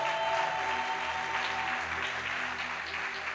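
A church congregation claps together in a steady, sustained round of applause that fills the room, with a held musical tone audible underneath and no talking.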